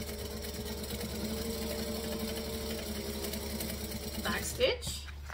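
Sewing machine running steadily while top stitching fabric at a quarter-inch seam, a continuous close mechanical hum and whir that stops abruptly near the end after a brief thunk.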